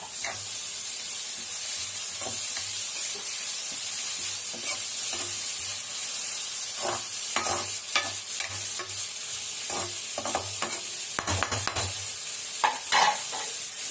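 Carrot, capsicum and cabbage stir-fry in a pan with a steady bright sizzle and hiss, broken by repeated scraping knocks of a spatula stirring the vegetables at an uneven pace.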